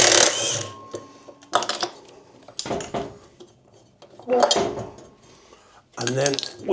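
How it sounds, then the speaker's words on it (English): An impact wrench works on the drum of a Beko washing machine, firing in several short, loud mechanical bursts separated by pauses and mixed with metallic clanks and rattles close by. "and then I'll use my impactor"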